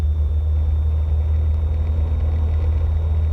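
A light single-engine airplane runs at full throttle for takeoff, a deep steady droning rumble that is loud and constant throughout with no voices.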